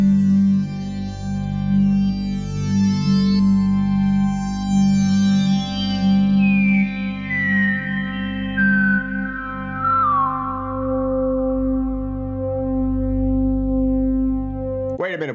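Fred's Lab Manatee synthesizer plays a sustained, layered tone with a steady low drone and bright harmonics sweeping downward, heavy with effects and echo, then cuts off abruptly at the end; no talk.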